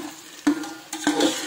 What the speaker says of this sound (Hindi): अब मैं इसमें टमाटो प्योरी डालूंगी, ये 2 टमाटो की प्योरी है,